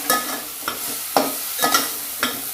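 Leftover stuffed-brinjal masala stirred into fried brinjal in a pan, giving about five rhythmic scraping strokes over a soft background sizzle, close and moderately loud.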